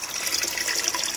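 An aerator bubbles in an aquaponics water tank, giving a close, busy gurgle of fizzing, splashing water that churns continuously at fairly high level.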